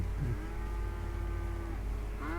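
Cattle in the Western video game RedM low in a long, drawn-out moo with a rising final call, heard close and clear over a steady low ambient rumble, with no talking.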